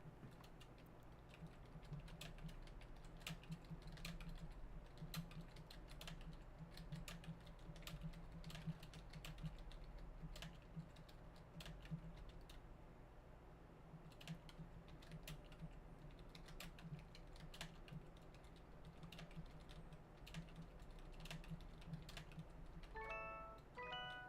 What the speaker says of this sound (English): I'm going to be typing away.